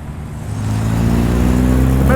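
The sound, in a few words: Monaro street car driving past after a car show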